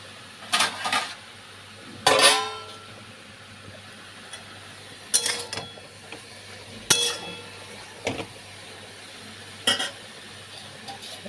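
A metal pot lid knocks and clinks against a cooking pot of fried greens (shushni shak), giving sharp, separate clatters, about eight over several seconds, close by over a soft background hiss.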